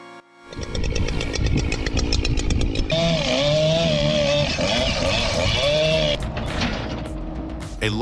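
A turbo mulcher head works high on a tree, a loud, buzzing high-revving roar that starts after a brief pause and runs steadily with wavering pitch, easing slightly toward the end.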